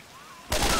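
Gunfire in Left 4 Dead 2 bursts in suddenly after a quiet stretch, a loud, dense blast of shots filling the second half.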